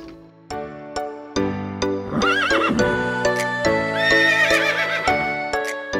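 Ponies neighing in a meadow at a pony club, several loud close whinnies rising and falling one after another, with short clip-clop hoof knocks between them.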